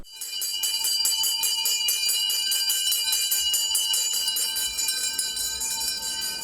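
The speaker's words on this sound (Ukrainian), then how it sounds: "А далі лунає такий довгоочікуваний дзвоник для першокласників" A school bell for first-graders rings continuously in rapid, even strokes for several seconds, bright and moderately loud, with no voices.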